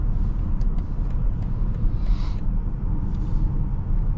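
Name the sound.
2024 BMW X5 M60i driving on the highway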